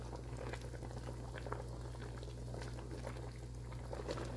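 A pot of sinigang soup boils steadily, a continuous close bubbling and gurgling with a low hum underneath, no voices.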